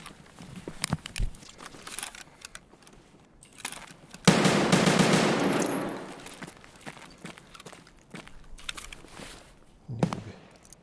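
A burst of rapid automatic gunfire from the video game Escape from Tarkov empties a magazine in a loud, dense roar lasting under two seconds. Scattered keyboard and mouse clicks tap before and after it.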